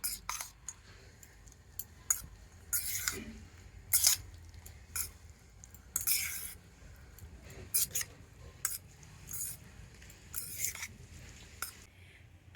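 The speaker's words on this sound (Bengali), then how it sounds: "তো সব কিছু দিয়ে এবারে খুব ভালো করে মিশিয়ে নেব" Flattened rice dessert with cashews and raisins mixed by hand in a bowl, soft intermittent squishing and scraping bursts at an irregular rhythm, quiet and close.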